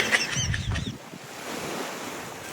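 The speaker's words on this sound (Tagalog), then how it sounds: "Natatakot nga siya sa tunog ng alon" Surf washes steadily at a seashore, a broad continuous hiss of breaking waves, preceded by a few brief knocks and rustles close to the microphone.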